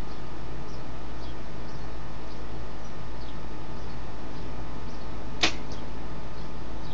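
A Gold Tip Velocity arrow loosed from a compound bow gives one sharp, brief whoosh and snap near the end, heard alone over a steady outdoor background hiss.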